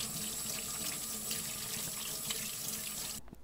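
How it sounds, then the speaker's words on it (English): Warm water runs steadily from a tap into a sink as hands are washed in a kitchen before cooking, a close continuous splashing rush that cuts off abruptly at the end. "You wash your hands with warm water and soap."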